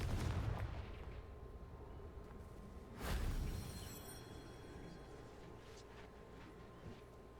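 Fire spell blasts cast in the video game Hogwarts Legacy during a fight with spiders: a loud burst at the start and another sharp boom about three seconds in, each fading over a low rumbling game soundscape.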